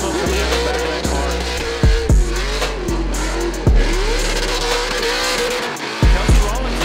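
Drift cars at a Klutch Kickers 100k Drift Series round roar at high revs with squealing tires, engine pitch rising and dipping through repeated gear shifts, loud and continuous.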